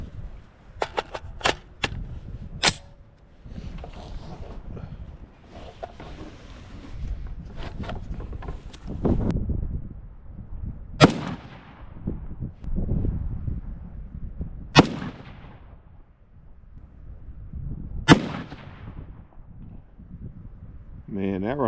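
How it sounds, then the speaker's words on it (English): Three sharp rifle shots from a Ruger SFAR fitted with a Timney trigger, fired outdoors at a range, each a loud crack spaced a few seconds apart. Quieter handling sounds and louder early bursts precede them, with ambient noise between. "So let's put another 3 rounds down range"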